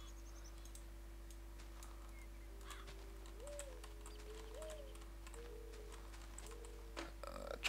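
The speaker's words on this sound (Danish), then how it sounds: "Nej, der er fugle og alt muligt. Og duer." Faint, distant bird calls and soft dove coos in a modded Minecraft Technic pack world, sparse short chirps over a low hum with occasional keyboard clicks.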